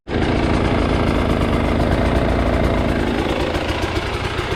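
A KTM TPI two-stroke motorcycle engine idles steadily at close range, a loud, dense, continuous drone with a fast even pulse that holds unchanged throughout.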